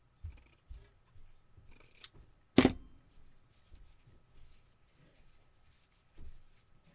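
Scissors snip through craft material for a homemade Santa Claus Christmas ornament, one sharp, loud cut standing out among soft, quiet handling rustles and small taps, with no talking.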